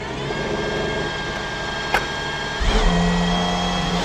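A naturally aspirated 6.5-litre V12 in an Aston Martin Valkyrie fires up after a steady background hum, with a sharp catch followed by a loud, sustained idle drone close by.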